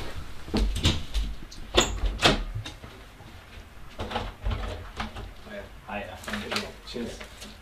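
Doors bang and thud open and shut several times at irregular intervals, knocking and clattering against a background of people talking in a room.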